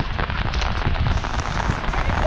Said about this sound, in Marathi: आता पाऊस चालू झालं